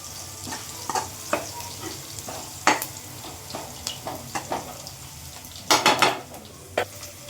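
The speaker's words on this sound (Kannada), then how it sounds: "ಇನ್ನು ಲಿವರ್ ಫ್ರೈ ಆಗಿದೆ ಅಲ್ವಾ ಇವಾಗ ನಾನು ಒಂದು ಚಿಕ್ಕ ಬೌಲಲ್ಲಿ ತೆಗೆದಿಟ್ಬಿಡೋಣ ಅಂತೇಳಿ ತೆಗೆದಿಡ್ತಾ ಇದ್ದೀನಿ" Fried chicken liver being scooped out of a kadai into a small bowl, a series of sharp metallic spoon clinks and scrapes over a faint residual sizzle, quiet and close, with a brief cluster of clatters near the end.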